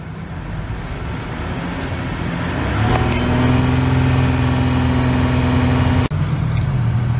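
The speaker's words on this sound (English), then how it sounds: "it's going to tell us to put it up to 2500 to 3000 RPMs" A car engine revs up from idle and holds steady at about 2500 to 3000 RPM, a loud sustained drone with a sharp click partway through.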